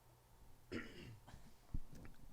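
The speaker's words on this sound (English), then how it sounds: "I was told to clear my throat" A single person clearing their throat quietly up close, one short rasping burst followed by a small second catch, soft and intimate against a hushed background.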